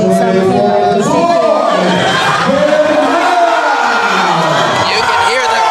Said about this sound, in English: You can hear the crowd roar for this.